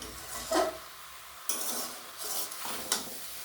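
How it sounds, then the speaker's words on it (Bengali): A spoon stirs a mixed vegetable curry in a pan, several scraping strokes in an uneven rhythm over a soft sizzle, close and fairly loud, with no talking. "আমি খুব ভালো করে মিশিয়ে নিয়েছি"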